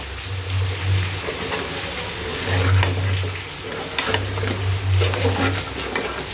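Bottle gourd curry sizzles in a pan as a spoon stirs it in bursts, scraping and clacking over a steady frying hiss, with rain pattering in the background and no talking.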